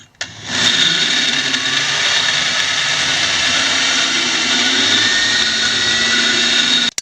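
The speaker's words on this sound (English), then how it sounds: "I'm going in from underneath with my rotary file to enlarge this hole" A rotary file spins at high speed enlarging a hole in a vehicle's underside while an Air Lift 1000 air bag kit is being installed, a loud steady whine starting abruptly and holding for several seconds before cutting off.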